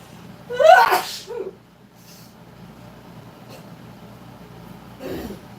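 One loud, sharp human sneeze bursts out close by, and a second, quieter sneeze or snort follows a few seconds later in an otherwise quiet indoor room.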